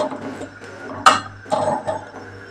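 Chicken kosha being stirred in a pan, a few sharp metal clinks and scraping taps of a utensil against the pan, close and fairly quiet.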